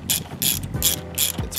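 A ratchet tightens a part on an ATV frame, clicking in four quick, evenly spaced bursts close to the listener with no talking.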